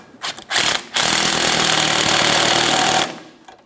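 A power tool runs in a loud, steady burst for about two seconds after a few brief starts, tightening the nut on a rear sway bar link of a 2007-2017 Jeep Patriot.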